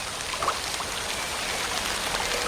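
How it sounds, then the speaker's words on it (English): Heavy rain pouring down in the South American Amazon rainforest, a steady dense hiss of drops that stays even and close throughout with no voices. "It usually only rains once a day, but when it does, it pours."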